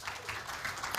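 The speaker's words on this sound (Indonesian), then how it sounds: "Ya, beri tepuk tangan." A church congregation applauds at a year-end Sunday worship service, a short burst of steady, dense clapping filling the room with no talk over it.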